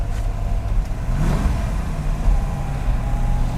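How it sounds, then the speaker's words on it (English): A 1963 silver split-window Corvette's engine revs steadily at higher RPM on the road, a continuous mid-pitched drone with a slight swell partway through, loud and close, with no voices. "we'll do a little higher RPM run here"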